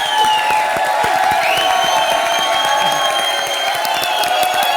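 A studio audience at a comedy show claps and cheers in a steady wash, with sustained musical tones ringing over the crowd noise throughout.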